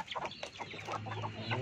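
Kampung chickens clucking in a backyard pen, brooding hens giving short repeated clucks and murmurs close by, with no one speaking.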